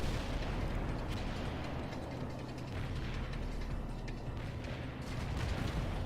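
Artillery barrage in the real-time strategy game World in Conflict, a dense continuous rumble of distant shelling and mechanical clatter, steady and loud throughout with no voices.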